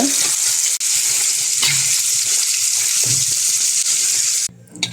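A large baim eel fish from the Arabian Sea fries in a pan with garlic and oil. A loud, dense, close sizzle roars almost continuously, dips once briefly, then cuts off shortly before the end.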